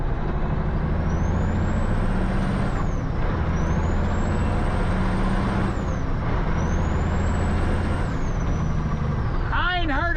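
A new turbo on the Cat engine of a tow truck whistles, rising and falling in three long cycles over a loud, steady diesel rumble, with a brief chirp at the end.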